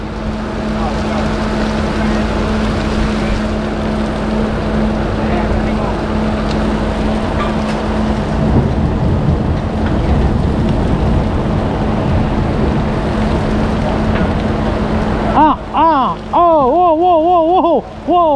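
Heavy rain pours onto a fishing boat at sea with thunder rumbling, a dense steady wash of noise, before short bursts of voices break in near the end.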